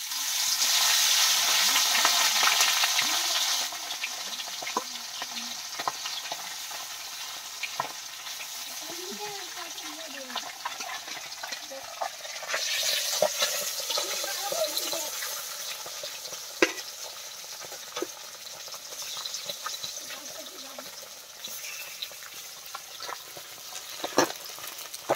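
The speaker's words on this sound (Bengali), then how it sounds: "এখন মাছগুলো ভেজে নিচ্ছি," Freshly caught river fish frying in oil, a continuous crackling sizzle that is loud at first and then settles, with occasional clinks of a utensil.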